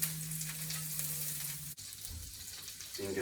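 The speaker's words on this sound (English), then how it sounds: "We're just going to pop a little bit of cubes of butter in there first." Cubes of butter melting in a hot pan give a steady hiss and crackle, fairly quiet and close, broken by a brief clunk partway through, with no speech.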